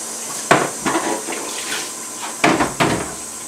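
Water splashing and rinsing pigment off an UltraStable color print, in several short bursts of spray with brief pauses between them, close and fairly loud.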